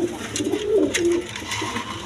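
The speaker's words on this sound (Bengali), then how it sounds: "এক পেয়ার চুয়া সুন্দর কবুতর আছে" A pair of pigeons coos close by in low, throaty bursts, with one clear run of cooing through the middle of the brief stretch.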